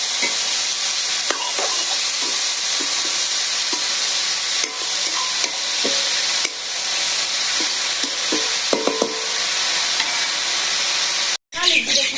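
Food stirred in a hot pan with salt in a Bangladeshi village kitchen: steady sizzling frying hiss throughout, with light scraping stir strokes and occasional clinks, then a brief dropout near the end.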